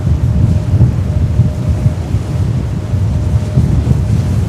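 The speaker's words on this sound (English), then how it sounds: "facing the elements, facing the storm," Stormy wind outside JFK airport on Christmas Eve roars steadily into the microphone, a loud, continuous low rumble of buffeting gusts with no talk.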